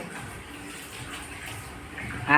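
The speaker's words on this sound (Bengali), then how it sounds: "আর এই যে অতিদেব আমার জল ভরছে" Water runs steadily into containers in a home kitchen, a soft continuous splashing flow at moderate distance, with a louder burst of water near the end.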